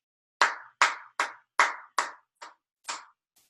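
Hands clap out a rhythm in a practice exercise for quarter and eighth notes: eight crisp, close claps in an uneven short-long pattern, alone in a quiet room.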